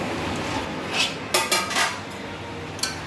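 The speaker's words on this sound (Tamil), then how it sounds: "இப்போ நம்ம சிக்கனை நல்லா தொலாவி விட்டுடலாம்." A metal spoon stirs chicken pieces in a cooking pot for chicken dum biryani, with scraping and several sharp clinks and clatters against the pot, close and moderately loud over a low steady background.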